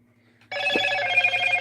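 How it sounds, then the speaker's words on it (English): A phone rings, a loud bright electronic ring starting abruptly after a quiet moment and continuing steadily to the end, heard alone without talk. "I didn't realize this phone was making noise."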